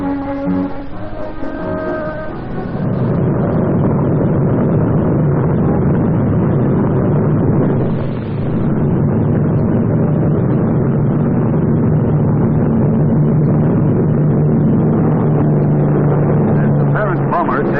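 A modified B-29 bomber carrying an XF-85 Goblin parasite fighter under its fuselage takes off, its piston engines giving a loud, steady, continuous drone that swells after a brief tonal opening and holds throughout.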